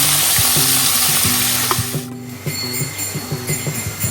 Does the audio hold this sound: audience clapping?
no